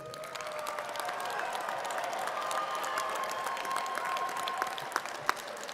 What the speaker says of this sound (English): Have one final round of applause for the graduates.